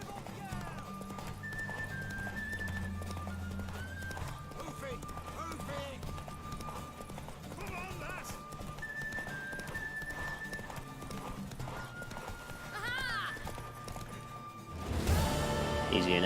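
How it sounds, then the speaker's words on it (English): Horses gallop in a race in The Witcher 3, a steady drumming of hooves mixed with game music and a brief whinny, with a sudden louder burst near the end. "I'll win this horse race"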